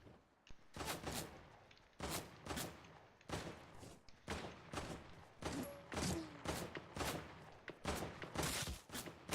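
Gunfire in the Fortnite video game, a run of sharp shots and bursts repeating roughly every second, fairly faint and distant-sounding, with no talk over it.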